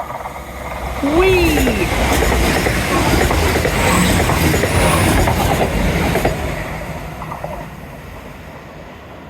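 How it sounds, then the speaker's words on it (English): A train runs along the Teignmouth seawall by the sea, rumbling and clattering loudly past with a brief wheel squeal early on, then fading near the end; someone gives a short excited shout. "And I can hear a train come in."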